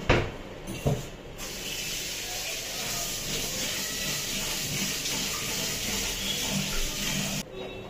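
Tap water runs steadily into a kitchen sink while rice is washed, a continuous close hiss with a couple of knocks at the start and the flow cutting off near the end.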